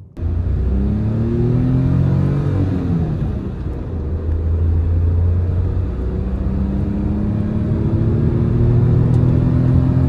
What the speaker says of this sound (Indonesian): Tapi kolong dan juga mesin ini suaranya lumayan masuk.